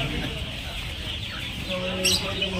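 Native hens and young roosters at a busy duck-and-chicken market cluck steadily against constant crowd murmur, with a brief louder burst of fowl calls near the end.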